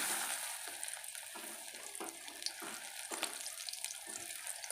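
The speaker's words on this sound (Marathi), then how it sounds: "अशा पद्धतीने भेंड्या तळून घ्यायच्या आहेत" Okra pieces frying in hot oil in a wok (kadhai), a steady dense sizzle with irregular crackles and faint stirring, close and alone without talk.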